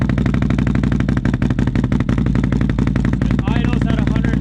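A 2020 Can-Am ATV fitted with an SLG Welding exhaust idles loudly and steadily nearby, its deep, even thrum rumbling on without pause.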